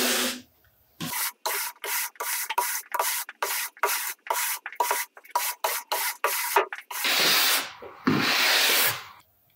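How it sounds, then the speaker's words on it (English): A nylon brush sweeps over a waxed snowboard base from nose to tail in quick, regular strokes, each a short scratchy swish, close and crisp, ending with a couple of longer, slower brushes. "We start with a nylon brush and brush over the base from nose to tail."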